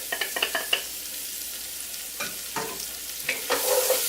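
Onions added to a pot of rendered bacon for chowder, with a steady sizzle and frying hiss broken by stirring scrapes and clacks of a utensil against the pot, close up and without talk.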